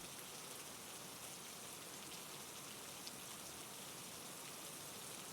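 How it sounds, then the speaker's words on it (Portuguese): Heavy rain pours over a city as a dense, unbroken hiss that holds steady throughout, with no voices or other distinct sounds. "A chuva caía forte sobre a cidade"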